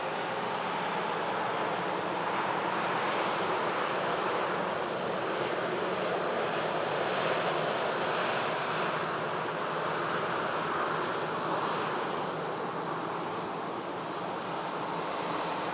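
A Ryanair Boeing 737 jet at Manchester Airport produces a steady, broad engine roar that holds for the whole stretch, moderately distant, with no voices.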